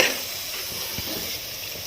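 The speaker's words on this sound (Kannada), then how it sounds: "ನಾನು ಇವಾಗ ಇದಕ್ಕೆ ಹುಣಸೆಹಣ್ಣು ಹಾಕೊತಾ ಇದ್ದೀನಿ" Tamarind going into a pan of frying masala for a fish-head curry, heard as a steady close hiss and sizzle of hot oil lasting throughout, with faint stirring scrapes underneath.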